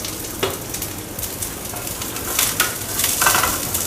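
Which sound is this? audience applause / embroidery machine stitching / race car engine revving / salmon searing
salmon searing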